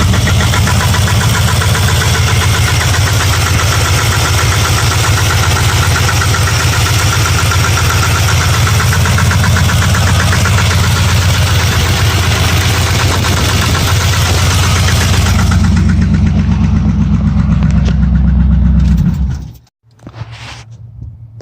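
A car engine idles steadily with a fast mechanical ticking from the distributor running through it, continuous and close, before cutting out abruptly near the end.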